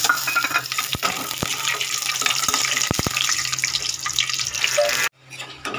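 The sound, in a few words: frying lentil dumplings (bori) in oil in a wok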